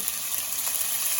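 Close, bright sizzling of sofrito with garlic and herbs frying in hot oil, a continuous crackling hiss.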